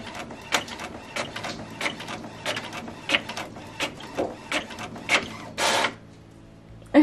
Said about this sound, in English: And now let's print our stickers.